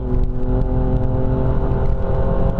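A loud, close 3-litre twin-turbo six-cylinder 450-horsepower four-door car engine idles and revs with a deep, throbbing hum and layered harmonic whine, steady throughout, no voices.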